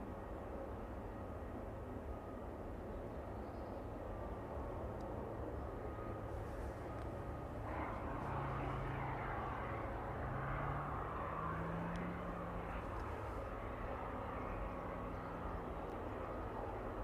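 An Airbus A300 starts up on stand at East Midlands airport, giving a steady, distant engine rumble and hiss that builds slightly in brightness partway through, with no voices.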